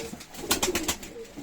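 A pigeon coos close by, a short series of soft, throaty pulses in a quiet setting.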